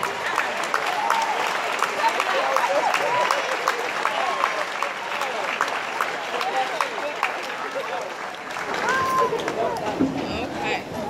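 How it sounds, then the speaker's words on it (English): An audience at a school event stands and claps to welcome Senator Eddie Melton, with loud, dense applause running steadily throughout, crowd voices and cheers mixed in, and a brief dip near the end. "stand and clap your hands as we bring Senator Eddie Melton to the floor"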